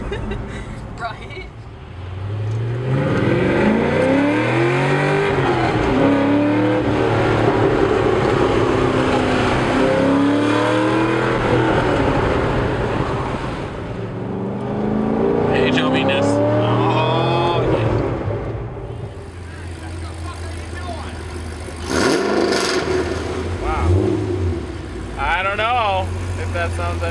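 A 2007 Corvette Z06 with a Corsa exhaust is revved repeatedly, its loud, deep V8 bark swelling and falling in several strong pulls, with people talking faintly in the background.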